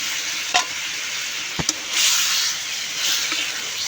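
Fish, vegetable stalks and potatoes fry in masala, a close steady sizzle swelling in waves as they are stirred, with a few sharp clinks of the utensil against the pan.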